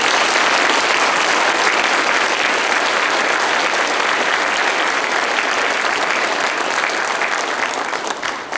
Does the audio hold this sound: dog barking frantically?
no